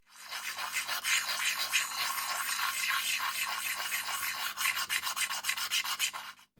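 Hand sanding of a metal revolver part from a Colt Single Action Army with 500 grit wet/dry paper, heard as a continuous close rhythmic rasping of quick back-and-forth strokes.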